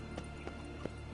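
Horse hooves clip-clop in The Witcher 3 video game: three or four evenly spaced, moderately loud hoofbeats over a steady low game ambience.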